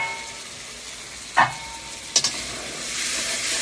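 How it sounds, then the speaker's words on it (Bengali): Spice paste of ground chili and coriander sautés in a pan for a bhuna of native tengra fish: a steady close sizzle and hiss with a few sharp utensil clinks. "মশলাটা কষাই নিচ্ছি।"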